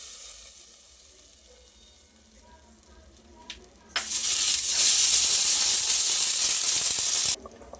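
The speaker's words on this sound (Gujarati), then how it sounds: "મીઠાના દાણા પાન ઉમેરી" A hot spice tempering of mustard seeds, cumin, pepper, cloves and leaves hits a pot of drumstick kadhi after a quiet pause, bursting into a loud, close, sustained sizzle that cuts off abruptly a few seconds later.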